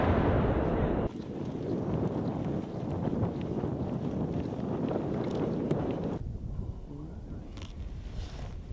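An FGM-148 Javelin anti-tank missile fires and detonates outdoors as a loud blast, followed by a long roaring rumble amid wind noise that fades and thins toward the end.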